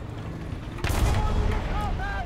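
A Leopard 1 tank gun firing in a video game, one sudden heavy boom followed by a rumbling tail, with faint chirping tones near the end.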